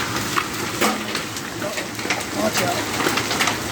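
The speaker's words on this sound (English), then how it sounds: "That's the biggest hail I've seen yet." Golf-ball-size hail falls during a May storm in Euless, Texas, a dense, continuous clatter of scattered impacts under people talking nearby.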